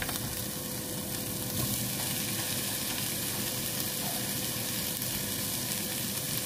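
Cherry tomatoes and tomato paste sizzle in a hot pan, a steady dense frying hiss that holds at an even level throughout with no talking.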